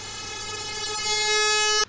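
White noise from a Serum software synth with the filter resonance turned up rings as a steady, loud harmonic buzz like a horn, holding for under two seconds before cutting off abruptly.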